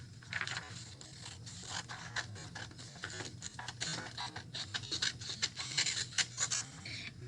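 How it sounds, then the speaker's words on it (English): Scissors snip through paper, cutting out pictures, in a quick, uneven series of crisp cuts, with paper rustling close by over a steady low hum. "So I'm going to cut out my pictures."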